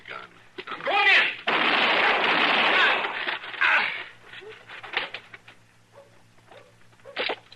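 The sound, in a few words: gunshots in a radio drama shootout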